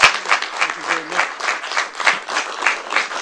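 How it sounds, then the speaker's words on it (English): Applause from those attending a city council meeting in Cocoa, a steady round of clapping filling the room as an honoree stands to be recognized. "let's give him a round of applause"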